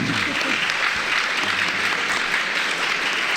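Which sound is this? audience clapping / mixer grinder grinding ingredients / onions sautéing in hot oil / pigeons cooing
audience clapping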